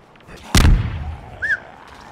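A grenade blast in a first-person shooter game, with a sharp, loud broadband boom that decays over about half a second, followed by a brief whistling tone.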